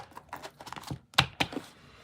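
A deck of tarot cards shuffled by hand during a live reading, a run of soft papery flicks and taps that builds to a few sharper, louder snaps near the end, with no voices.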